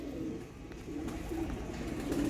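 Sialkoti pigeons cooing close by, low throaty coos repeating over a dense, noisy background murmur.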